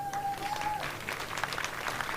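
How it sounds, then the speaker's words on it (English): An audience at the Local Hero Awards 2019 ceremony claps steadily and warmly, with a brief high tone sounding at the start. "So we like clapping"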